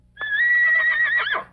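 A horse gives a single clear whinny, a bright sustained neigh that wavers and breaks off at the end, loud and close with nothing else heard.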